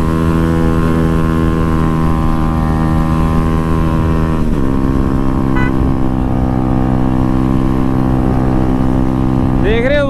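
Modified Kawasaki ZX-10R sport bike leaning into a corner, a close, loud, steady engine drone whose pitch drops midway and then holds, with a voice faintly present underneath.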